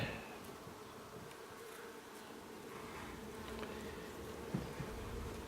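A dense, steady hum of many honey bees buzzing together in an open hive, soft and continuous, with occasional individual bees passing closer.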